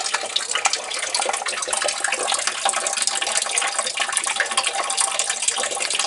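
Coolant draining from a truck radiator, a continuous rushing, splashing stream of liquid pouring steadily into a catch pan, fairly close with no talking.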